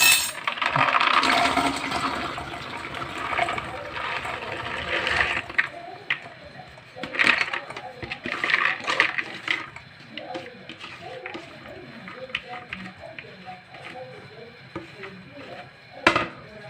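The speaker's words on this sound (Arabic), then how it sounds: "هنحط طبعا الفول في الدماسه اهو" Dried fava beans are poured into a metal bean cooking pot, a rattling cascade at first that thins into scattered clinks and taps, with a person talking throughout.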